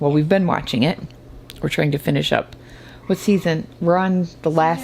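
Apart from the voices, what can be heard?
No distinct noise like a dog, phone or traffic.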